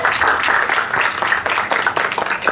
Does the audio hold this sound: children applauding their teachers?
yes